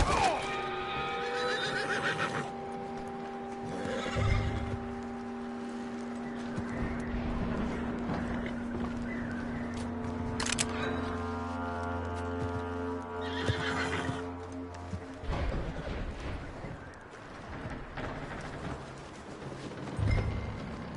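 A horse in the video game Red Dead Redemption neighs and whinnies several times, with clip-clopping hooves and a steady tonal background. Loud whinnies burst out at the start, around the middle and again later.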